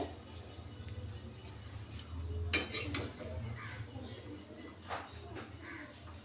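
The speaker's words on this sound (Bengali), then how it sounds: "দিয়ে দিচ্ছি সামান্য লবণ একটু নাড়াচাড়া করে দেবো" Cabbage with a little salt being stirred in a pan, with a few scattered metallic scrapes and clinks of a utensil against the pan over a low background hum.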